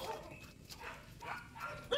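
Two puppies bark in a few short, fairly faint yips and woofs spread across a couple of seconds, with some background noise between them.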